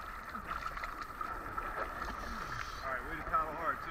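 Paddles dip and pull through water from a small boat, soft splashes and swishes over wind and ambient outdoor noise, with a voice speaking partway through.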